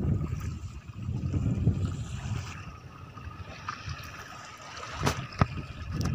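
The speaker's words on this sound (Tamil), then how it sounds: "காற்றுலேயே அப்படியே வருது" Wind buffets a small fishing boat drifting at sea with its engine switched off, with low rumbling gusts, water sloshing against the hull and a few sharp knocks near the end.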